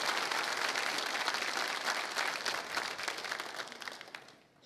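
Congregation applauding in a Brazilian Catholic church during a sermon, a dense, sustained wave of clapping that carries on steadily before fading out near the end, with no talking over it.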